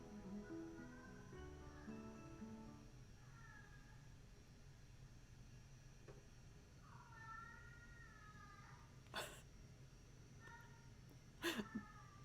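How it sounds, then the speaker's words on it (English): A domestic cat meows several times in drawn-out, wavering calls, some close and some softer, over a faint steady background hum with a couple of sharp knocks near the end. "that's my cat."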